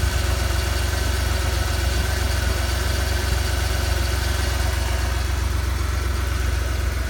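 A steady, rumbling engine of a 1996 Ford F-350 pickup truck with a new engine idles close by, its low throb continuous and even throughout with no voices.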